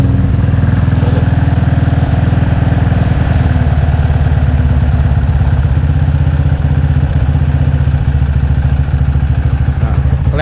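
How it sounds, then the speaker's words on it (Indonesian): A motorcycle engine fitted with a standard camshaft idles loud and close, a steady, smooth rapid putter with light valve clatter and no breaks or lope throughout. "Karena ini noken AC standar, jadi suaranya udah nggak yang putus-putusnya, kurang enak gitu. Ya jadi kedengeran kayak motor standar."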